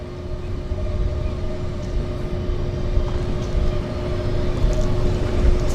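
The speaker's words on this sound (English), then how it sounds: "We have an engine start right about there." Aircraft engine starting at a downtown harbour airport, a steady low droning rumble with a constant mid-pitched whine running throughout, moderately distant and unbroken.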